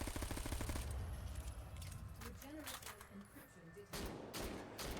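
Rapid automatic gunfire in a video game, a 3-gun emptying a full magazine, rattles as a dense burst with a commentator talking over it.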